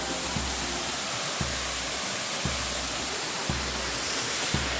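A waterfall in Serra da Canastra roars as a steady broadband wash of falling water, loud and unbroken throughout, with faint regular low thumps underneath.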